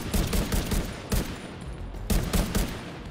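Rapid bursts of gunfire ring out in a firefight in the video game The Division 2, with two loud volleys and scattered shots between them, and no voices.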